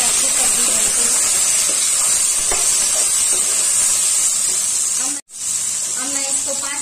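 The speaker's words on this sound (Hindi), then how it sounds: "इसमें आलू डाल रही हूँ।" Potatoes sizzling in hot oil in a pan for aloo kathal sabji, a loud continuous frying hiss that drops out briefly near the end and then resumes, while someone talks over it.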